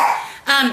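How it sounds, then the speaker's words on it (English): A pet dog in a home kitchen gives a short bark-like yelp near the end, following a stretch of someone talking; the bark is brief and close. "Please excuse my dog."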